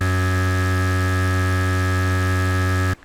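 Craft Synth 2.0 synthesizer voiced with a different modulation type between its two waves holds one steady, buzzy tone with rich overtones for about three seconds, then cuts off abruptly.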